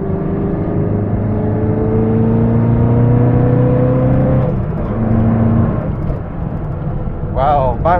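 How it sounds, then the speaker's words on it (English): A loud 1977 Mitsubishi Lancer 1600 rally car engine drones and climbs through the revs, drops briefly as it shifts, then pulls again, with brief voices near the end. "as we take this Mitsubishi Lancer rally car for a drive. It's very loud"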